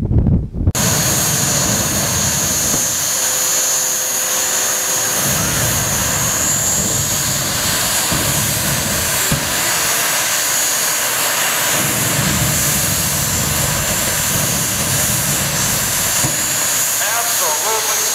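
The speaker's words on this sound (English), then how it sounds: "Now she brings the engine RPM up all the way." A jet-powered dragster's jet engine is run up to full RPM on an asphalt lot, a loud, steady roaring whine that holds nearly unbroken for the whole stretch, close by and dominant, with occasional voices underneath.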